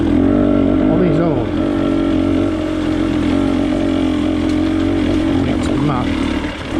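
A WR250 off-road motorcycle riding a Welsh green lane, a steady loud engine drone with throttle blips and revving, while someone talks over it.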